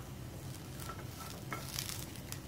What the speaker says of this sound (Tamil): இந்த தேங்காவை நல்லா கலர் மாறுற வரைக்கும் வறுத்துக்கலாம்.